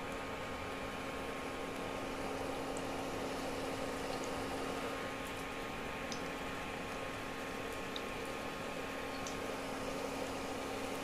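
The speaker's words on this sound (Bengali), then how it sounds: "এরকম করে আস্তে আস্তে করে গরম তেলে" Lentil fritters (dal bora) fry in hot oil with a steady, even crackle and hiss that runs without a break, close by and fairly quiet, under a faint constant hum.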